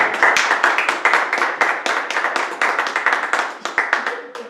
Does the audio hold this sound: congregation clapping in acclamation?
yes